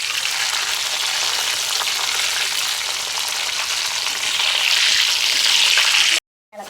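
Cassava pieces crackle and sizzle in hot oil as they fry into chips, a dense continuous bubbling hiss that swells slightly louder toward the end before cutting off abruptly.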